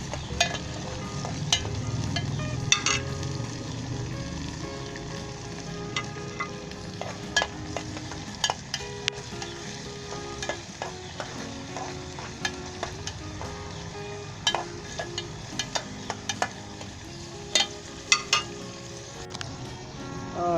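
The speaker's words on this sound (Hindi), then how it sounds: "मैंने अच्छे तरीके से चिकन को फ्राई कर लिया।" Chicken frying for Afghani Kabuli chicken pulao, a steady sizzle in a pot with repeated sharp clinks and scrapes of a spoon stirring against the metal, close and fairly loud.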